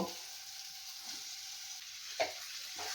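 Pomfret fish frying in a spiced masala paste makes a faint, quiet sizzle, broken by a couple of soft utensil knocks.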